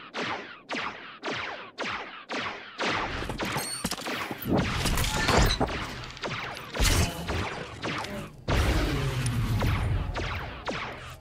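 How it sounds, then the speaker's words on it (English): A turret fires on an enemy ship in the SWTOR video game, a string of sharp, evenly spaced blasts followed by a denser, rumbling barrage with crashing impacts, loud and close. "Turret locked. Firing on enemy ship."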